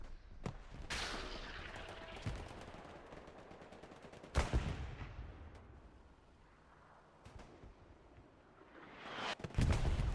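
Rifle fire in Hell Let Loose during a competitive match on the Foy map: several scattered, punchy shots with rumbling echoes, some close and loud, others more distant, over quieter battle ambience.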